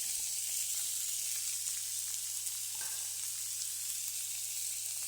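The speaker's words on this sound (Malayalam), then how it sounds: "ചെറിയുള്ളി ഇട്ട് കൊടുക്കുക." Shallots sizzle in hot oil in a pan for a pineapple stir fry, a steady even hiss with faint stirring, no voices.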